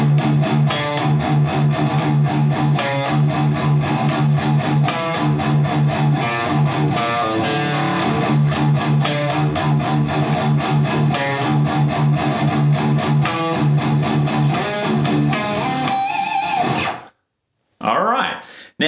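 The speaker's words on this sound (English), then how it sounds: "this gives me the entirety of this first main riff for the song that happens in the intro and in the verse" Distorted metal guitar plays the main intro and verse riff of a song with tight gallop picking, a loud, driving chugging pattern held for about seventeen seconds before it stops abruptly.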